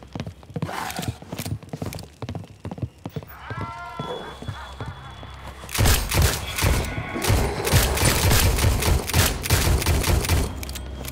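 Video game gunfire in Sker Ritual, with sharp shots early on, then dense rapid firing through the second half amid chaotic game noise, while a player talks.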